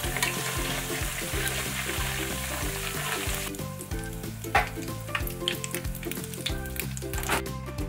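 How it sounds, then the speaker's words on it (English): Tofu frying in a pan of oil gives a dense, continuous crackling sizzle, up close and steady for the whole stretch, with background music playing underneath during the first half. "Fry the tofu until it's light brown in color,"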